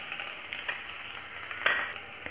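Crushed ginger and garlic fry in ghee with a quiet, steady sizzle broken by brief spatters and a couple of sharper clicks, close by and with no speech.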